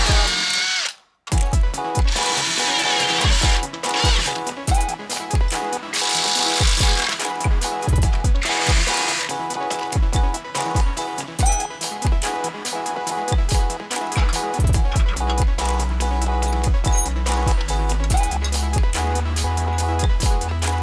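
A hand ratchet clicks rapidly as a sway bar link bolt is undone on a Toyota JZX110 Mark II, with bursts of close metallic ratcheting and clunks of the tool, loud and continuous, no talking.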